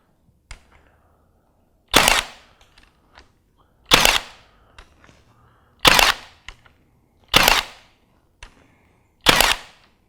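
A Milwaukee M18 FUEL brushless cordless 18-gauge brad nailer fires five loud, sharp snapping shots at an even pace about two seconds apart, each with a brief motor whir and faint handling noise between.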